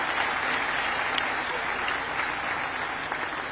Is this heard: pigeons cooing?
no